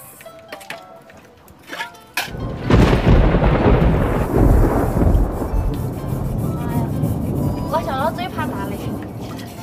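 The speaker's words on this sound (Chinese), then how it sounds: "怕打雷是吧？" Thunder cracks and rolls heavily over steady rain during a mountain-village storm, starting with a sudden loud burst after a quieter patch, and people talk faintly through it.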